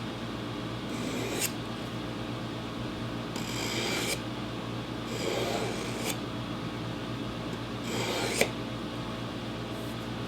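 A Kershaw knife blade is drawn across a WorkSharp powered belt sharpener, giving repeated raspy grinding passes about a second long each, separated by short pauses over a steady low motor hum.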